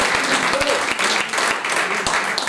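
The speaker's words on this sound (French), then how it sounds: "Vous pouvez l'applaudir, il vous entendra." Dense audience applause at an association's general meeting, loud and continuous, with a few sharper individual claps standing out.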